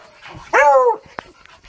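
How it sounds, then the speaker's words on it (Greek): A beagle in Lefkada, Greece gives one sharp, close, drawn-out bark amid faint background movement and a few soft clicks. "κάποια σκυλάκια μπίγκλ"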